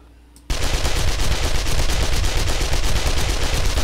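Rapid automatic SMG fire in the zombie survival game 7 Days to Die bursts in after a brief quiet moment and keeps going as a loud, dense, continuous stream of shots until the end.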